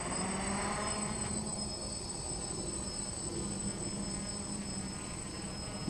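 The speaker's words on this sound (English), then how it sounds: "we start the motors, throttle up, and off we go." A DJI F550 hexacopter drone runs its motors in flight, giving a steady, continuous high-pitched whine with a droning hum underneath, fairly loud and unbroken, with no one speaking.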